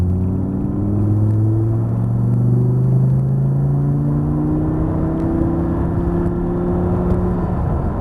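A car accelerates during driving practice, its engine note climbing steadily in pitch through a gear's rise with a loud, close interior rumble and whir, heard without talk.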